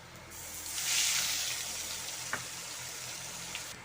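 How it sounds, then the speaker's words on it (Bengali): Whole cumin seeds and a mixed spice paste hit hot oil, giving a steady hissing sizzle that swells near the start and then settles into an even, close crackle. "তেলটা গরম হয়ে গেছে, দিয়ে দেব গোটা জিরে ফোড়ন, দিয়ে দেব এই গুলিয়ে রাখা মশলাটা"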